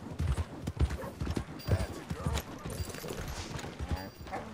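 A tired horse in the Red Dead Redemption 2 video game clip-clops at a steady walking rhythm, hooves thudding close over a dirt path with light game ambience in the background.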